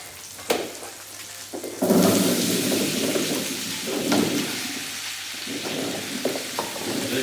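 Potato pieces frying in hot oil for a tartiflette, cooked over gas burners: a loud, dense sizzle that surges as the potatoes go in, then settles into a steady crackling hiss, with no talking.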